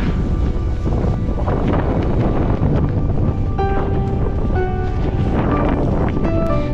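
Strong wind buffets the microphone continuously while cycling uphill into a headwind, a loud, unbroken rushing roar with no voices.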